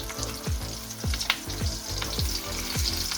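Sausages fry in a pan for a full breakfast, a continuous close sizzle broken by a series of soft, regular thumps and scrapes roughly every half second.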